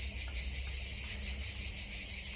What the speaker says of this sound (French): Au chant des cigales, ça, toujours.